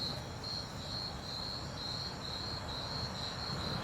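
Cricket chirps in a continuous, evenly pulsing high trill over a low background hiss, with no voices.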